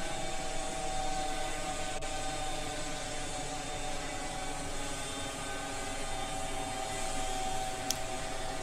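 Steady droning aircraft engine in the Roblox Velocity Flight Simulator game, holding an even, continuous hum with broad noise throughout, no clear throttle drop; a faint click near the end.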